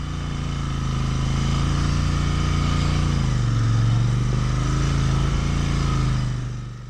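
A Royal Enfield Interceptor 650 motorcycle ridden through deep sand on the high-altitude Sarchu road in Ladakh at night. Its engine holds a loud, close, continuous drone that dips slightly in pitch midway and then eases off at the end.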